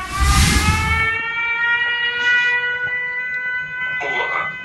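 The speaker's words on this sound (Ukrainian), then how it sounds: "Повітряна тривога." A long steady air raid siren wail drones on at a constant pitch in Dnipro, Ukraine, with a brief voice at the start and faint noises over it.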